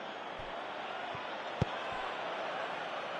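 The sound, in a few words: football stadium crowd reacting in a video game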